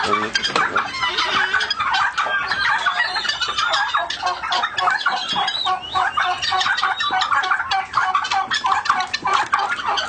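Turkeys on a turkey farm gobble and cluck continuously, several birds calling over one another at close range, mixed with other fowl and chicken sounds in a busy, dense flock chorus.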